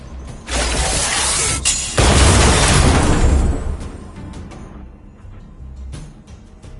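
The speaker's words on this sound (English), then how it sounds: "We wiped them all out in a single explosion!" A stealth bomb explosion in the video game Honkai Star Rail, a loud sustained shattering burst with crackling debris that slowly fades, followed by a few faint clicks.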